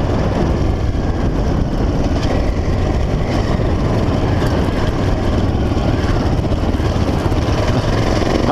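A Honda XL 600 R motorcycle engine runs steadily while riding toward a lake bed, a loud, dense, continuous rumble with wind roar and no clear changes in pace, with no voices.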